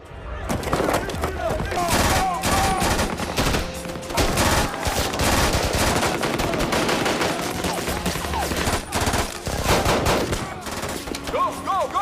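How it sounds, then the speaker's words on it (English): Movie gunfire as special forces fire rifles on the Taliban in a desert, with dense rapid loud shots and bursts continuing throughout, mixed with shouting voices. "the special forces start firing on the Taliban."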